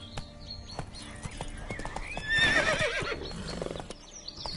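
Roach, the horse in The Witcher 3 video game, trots with clear rhythmic hoof clops, then lets out a loud whinny midway before the hoofbeats carry on, close and distinct.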